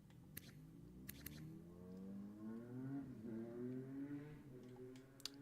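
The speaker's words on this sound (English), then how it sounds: "Another loud motorcycle going by." A loud motorcycle passes by outside, heard faintly from a distance. Its engine note rises and falls as it approaches and then fades away, with a few small clicks nearby.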